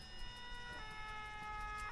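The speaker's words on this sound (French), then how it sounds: "Il y a l'ambulance." Ambulance siren in the video game Arma 3, a steady wailing tone with stacked harmonics sounding loud and continuous throughout, with traffic-like rumble beneath.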